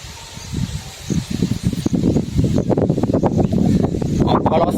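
Strong wind blusters steadily into the microphone outdoors while kites fly, a rough, rumbling gust noise growing louder toward the end, with people talking faintly underneath.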